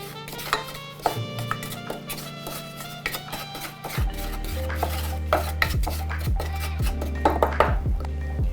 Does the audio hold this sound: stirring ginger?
yes